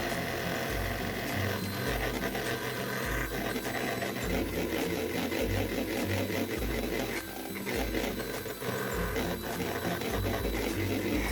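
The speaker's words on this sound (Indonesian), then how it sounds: "Ini akan aku mixer hingga putih telurnya ini kaku, kurang lebih 2-3 menit aja." An electric hand mixer whips egg whites with sugar until stiff, a loud steady motor whir with a rhythmic thumping pulse as the beaters knock the bowl, running continuously without talk.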